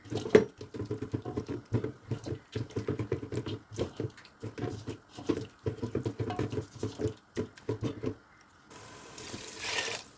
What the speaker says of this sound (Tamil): அரை லிட்டர் தண்ணி சேர்த்துக்கலாம்